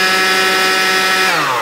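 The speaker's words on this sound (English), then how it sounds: "that's honestly the loudest cordless blower I've ever heard" A RYOBI 40V Expand-IT cordless leaf blower runs loud and close with a steady high-pitched whine, its pitch dropping near the end as it starts to spin down.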